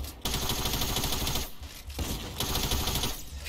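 Rapid automatic gunfire from the video game Fortnite, two long dense bursts separated by a short pause, loud and close with no talking over it.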